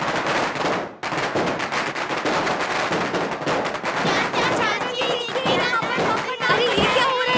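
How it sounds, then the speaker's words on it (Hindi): Rapid bursts of firecrackers crackle in quick succession, loud and close, with excited children's voices mixed in toward the end. "अरे ये पटाखा का आवाज कैसा है? कौन फोड़ रहा है?"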